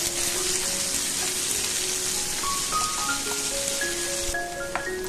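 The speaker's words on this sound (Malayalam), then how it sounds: "എന്നിട്ട് നന്നായിട്ടൊന്ന് വഴറ്റാം." Chopped onion sizzles in oil with cumin seeds in a steady, even frying hiss that continues unbroken over soft, sustained melodic tones in the background.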